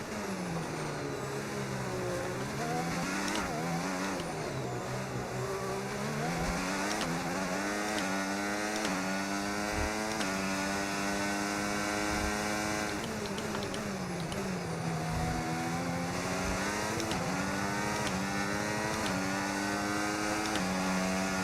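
Formula 1 car engines screaming around Monaco in the F1 25 racing game, a continuous high-revving whine that climbs and falls with gear changes, loud and steady from start to finish.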